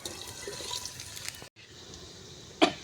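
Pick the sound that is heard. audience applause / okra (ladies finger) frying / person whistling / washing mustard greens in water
washing mustard greens in water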